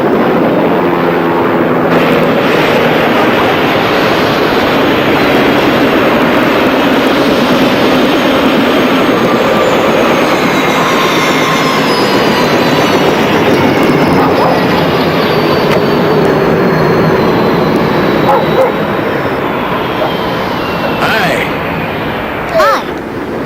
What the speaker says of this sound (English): There's a chopper coming!